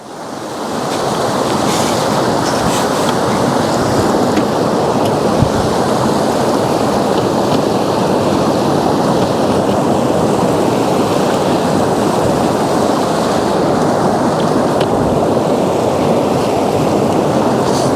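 Loud, steady rush of fast-moving water, a continuous churning roar close by with no voices.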